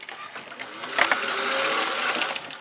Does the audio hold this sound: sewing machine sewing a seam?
yes